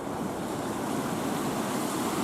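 Small alpine river in high mountain pasture country flowing steadily, a dense continuous rush of water close by with no breaks and no voices.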